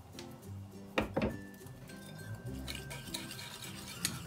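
A spoon stirring cake batter with whipped cream and lemon zest in a home kitchen, soft scraping swirls with a couple of sharp clinks against the bowl, quiet and close.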